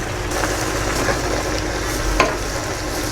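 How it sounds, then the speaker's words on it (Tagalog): Corned beef and cabbage being stirred in a frying pan, a steady close sizzle with scraping strokes of the utensil and one sharper clink near the end. "Haluin ko na yung ilalim."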